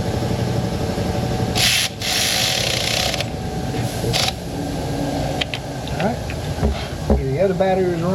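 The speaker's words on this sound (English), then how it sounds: "You're basically sanding it. These bristles are not playing." A wire brush grinding its bristles against bare metal during auto repair work, a steady harsh scrubbing that runs loud and close for several seconds with brief pauses, while a person speaks over it near the end.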